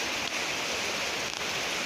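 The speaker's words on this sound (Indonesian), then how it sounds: "Coba lihat, ini hujannya terlalu deras." Heavy afternoon rain downpour during a thunderstorm in Kangkareng, a steady broadband hiss of dense falling water, loud and continuous without a break.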